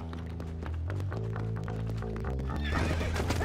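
A loud, close horse whinny from Red Dead Redemption, a long wavering neigh, followed by clopping hooves and rising commotion at the end.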